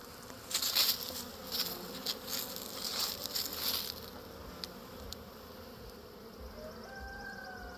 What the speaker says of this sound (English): You can still see a lot of bees coming in.